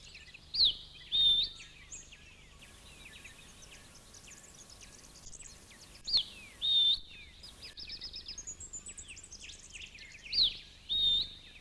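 An Australian scrub robin gives its unusual territorial call in the wild: repeated thin, rising whistles in three bursts, with quieter chirps and other bird calls between them, fairly close and clear.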